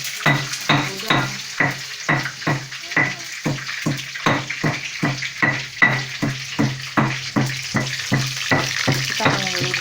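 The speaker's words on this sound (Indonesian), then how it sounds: "Kita mau nyambal udang." Shrimp sambal stir-fried in reused shrimp-frying oil, with a spatula scraping the pan in a steady rapid rhythm over a continuous close sizzle, no talking.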